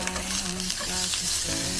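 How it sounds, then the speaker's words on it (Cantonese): Small pieces of pre-marinated lamb rack fry over medium heat in a pan, a close, continuous sizzle and crackle with faint tonal hum beneath, no one speaking. "我哋用一個中火啦，就放咗啲羊架上去煎香咗兩邊先"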